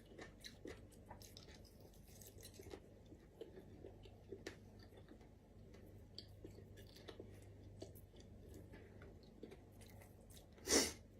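Chewing on food eaten with homemade Thai chili paste, soft close-up mouth sounds repeating unevenly and faintly over a quiet room, with one sharper crunch near the end.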